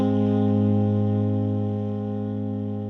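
Gentle Winds Kontakt library instrument with long release: a thick sustained chord of many layered low and mid tones, holding steadily and tapering gently over three seconds, alone with no talking.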